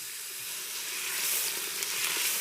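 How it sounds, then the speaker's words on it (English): Meat sears in a hot Crux pressure cooker, giving a steady, loud, close sizzle with a bright hiss that swells slightly and holds without a break, no voices. "add this meat to here right now and let it sear on both sides"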